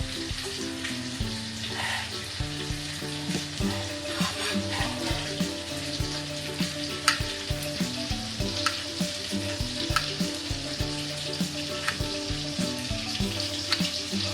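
Fish frying in a pan of oil, a continuous crackling sizzle with occasional pops and the clink of utensils, steady and close throughout, with no talking.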